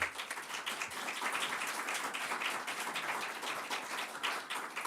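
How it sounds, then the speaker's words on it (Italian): An audience in a hall claps steadily at a presentation for an olive oil festival in Castelgomberto, with dense, even applause held for several seconds and no talk over it. "quindi farei un applauso"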